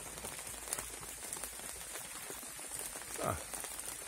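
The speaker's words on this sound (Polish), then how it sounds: "Pada." Light rain falls outdoors near a stork's nest, a faint, steady patter of scattered drops with one brief louder sound near the end.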